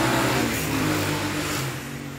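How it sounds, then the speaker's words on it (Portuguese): A motorcycle passes by outside a house, its engine a steady mid-loud hum that fades slightly toward the end, with no talking. "E moto passando, né?"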